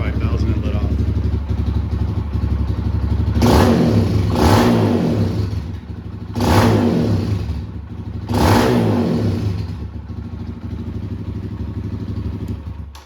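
A Kawasaki KLX-140 dirt bike with a Rekluse auto-clutch idles steadily, then revs up hard three times in quick succession, each burst rising and falling back to a loud, close idle.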